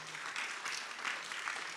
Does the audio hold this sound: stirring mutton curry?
no